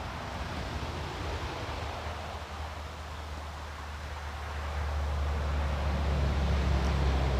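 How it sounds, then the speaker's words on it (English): Steady roar of road traffic beside a campsite, a broad constant wash of noise that swells louder toward the end, with no distinct passing vehicles and no one talking. "sorry about the road noise again"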